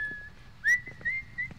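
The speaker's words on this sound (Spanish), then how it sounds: "¿No sabes silbar?" Ellie whistles in The Last of Us: Left Behind video game: a short, thin whistle with a quick upward chirp followed by a few wavering held notes, quiet and alone.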